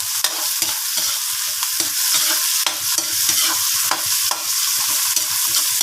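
Onion, garlic, ginger and tomato sauté in a pan, producing a loud, busy sizzle broken by frequent sharp scrapes and clacks of a utensil stirring them.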